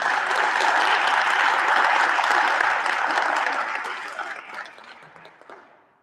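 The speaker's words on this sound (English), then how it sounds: "So just a round of applause for Kaylee Beeler and her family." Audience applause fills a school board meeting, a dense, loud burst of many hands clapping that holds steady for several seconds before thinning out and tapering away.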